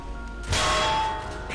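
A bell struck once by hand gives a bright metallic clang that rings on with a sustained tone, fairly loud and close, with no talk.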